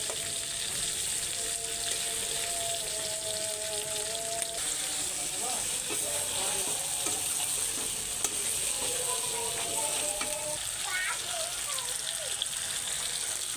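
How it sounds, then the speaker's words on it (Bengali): Small fish, including baila, puti and tangra, frying in oil, a continuous hissing sizzle with occasional clicks and scrapes, steady at moderate volume while a voice talks faintly in the background. "প্রথমে বাইলে মাছ আর পুঁটি মাছ ভেজে নিচ্ছি, এবারে ট্যাংরা মাছগুলো ভেজে নেবো"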